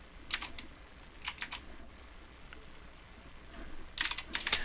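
Fingers type on a computer keyboard in irregular bursts of close, crisp key clicks with short pauses between runs.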